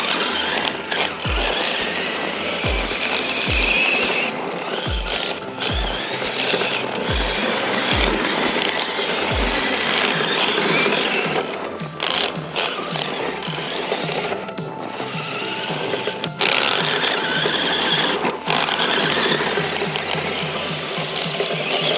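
A 3D printed RC monster truck named URSA driving outdoors with its drivetrain slipping, a loud continuous motor and gear whine with rattling, plus a run of sharp low clunks early on, steady for over twenty seconds.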